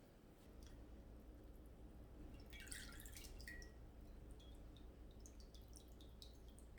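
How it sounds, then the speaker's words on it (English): Melted wax drips off a dipped pinecone in a handful of faint, quiet drops, with a brief cluster of small splatters near the middle over a low steady hum. "We want to let this wax drip off of it"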